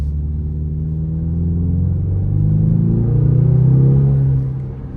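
A 2025 Ford Mustang EcoBoost engine in track mode gives a steady, loud low rumble with an interior drone, swelling slightly as it revs, then easing off near the end.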